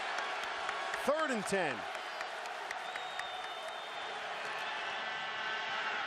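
A college football stadium crowd roars steadily during a 1999 Virginia Tech versus Virginia game, with whoops and a rising swell of cheering under a commentator's voice and a sharp whistle-like call early on.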